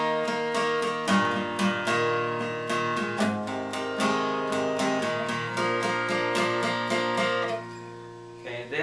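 An acoustic guitar strums the chorus chords of a song, with steady rhythmic strokes of ringing, full chords played up close and without voices.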